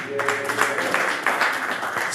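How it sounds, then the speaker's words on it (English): An audience claps at an awards ceremony for a Soca competition, a moderate patter of hands running under an announcer's voice. "Round of applause."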